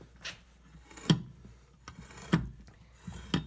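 A stock knife shaves small nibbles off a short wooden piece in a series of crisp, rasping cuts, about four distinct strokes spaced roughly a second apart, close and moderately loud.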